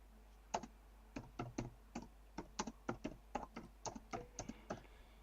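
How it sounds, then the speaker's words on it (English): Close, crisp keyboard typing in uneven bursts of clicks, some keys struck harder, with a brief pause before the tapping resumes. "You can hear me typing, can't you?"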